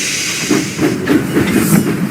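Steam locomotive puffing along the tracks, loud close rhythmic chuffs with hissing steam over a continuous rumbling background.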